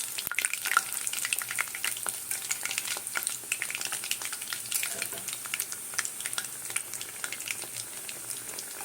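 Cauliflower singaras fry in hot oil, giving a steady, dense sizzle with crackling pops throughout, close and continuous, with no voices.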